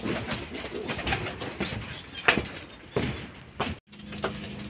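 Racing pigeons at a loft during training give soft, low coos among rustling and fluttering, followed by a brief sliding-door-like scrape and a low hum near the end, with no speech.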